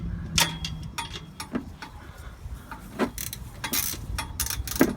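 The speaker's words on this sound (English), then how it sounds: "I'm going to use my 1/2-inch to take out the drain plug." A 1/2-inch ratchet loosens the oil drain plug on an Onan 4kW RV generator, sounding as irregular close clicks and metallic ticks scattered among soft handling noises, fairly quiet and with no talking.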